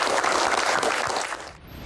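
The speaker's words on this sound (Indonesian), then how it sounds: "Tepuk tangan dulu untuk bos pertama" An audience at a Q&A event applauds, a dense burst of clapping that fades toward the end.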